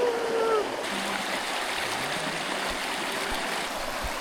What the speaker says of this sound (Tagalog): Manipis na yung sapa, kumlabang na.